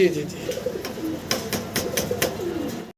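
A pair of red Lahori pigeons coo repeatedly in soft throaty bursts at close range, with wing flutters and background voices in a pigeon market setting.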